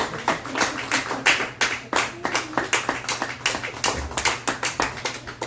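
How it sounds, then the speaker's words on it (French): Hand clapping from an audience at a Christmas Dada variety show, individual claps clearly separated in a quick, fairly even rhythm, close and moderately loud throughout about five seconds. "Une bonne main d'applaudissements pour Rantanplan"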